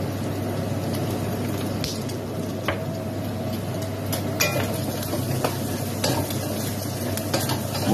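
Sautéed bottle gourd with pork gets stirred in a pan, a continuous close sizzle with scattered scraping and clinking of the utensil against the metal, no talking.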